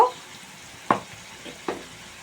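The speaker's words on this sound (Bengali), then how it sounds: "মশলাটাকে ভালো করে একটু কষাই" Masala for prawn malai curry fries in a pan, giving a few short, sharp sizzling and stirring bursts over a quiet background, with no talking.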